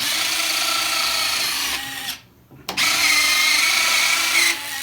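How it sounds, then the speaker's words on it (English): Electric retractable landing gear on an Eflite F4 Phantom RC jet lowering with a steady, close whirring servo motor that runs continuously, stops briefly for a moment, then resumes and whirs on alone. "Now it's time to drop the gear and get this thing standing on its feet."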